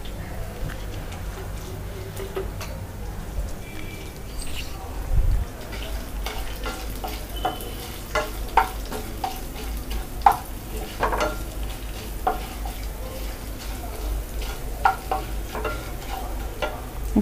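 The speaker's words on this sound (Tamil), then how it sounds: "கருவேப்பிலை. இதை வந்து நல்லா நம்ம வதக்கணும்." Curry leaves sautéing in a pan for a Tamil country-chicken curry, with a steady low sizzle and repeated light clicks of a spoon stirring against the pan, fairly close, no voices.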